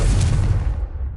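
Confringo explosive spell cast in the Hogwarts Legacy video game on PS5, a loud booming blast with a heavy low rumble that fills the short clip and slowly decays.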